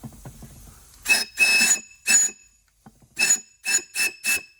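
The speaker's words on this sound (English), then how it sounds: "We got a little bit of a pressure leak in there. You can hear it, but you can also hear the clutch coming on." Compressed air is blown into a Nissan Frontier automatic transmission to check the input clutch. There are seven short, sharp hissing bursts with gaps between them, close to the microphone, and a pressure leak can be heard as the clutch engages.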